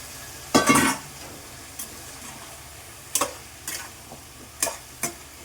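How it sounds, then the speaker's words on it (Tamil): Vegetables with onion, tomato and salt sauté in a pan with a low, steady sizzle, broken by several sharp clatters of a stirring spoon against the metal. "இப்போ எல்லா காயும் சேர்த்துக்கலாம்"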